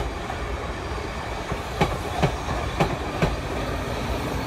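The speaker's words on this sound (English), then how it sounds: "Off into the siding now, 450072." A Class 450 electric train eases into a siding at Poole, its steady rolling rumble broken by four evenly spaced wheel clicks over rail joints, moderately close with no voices.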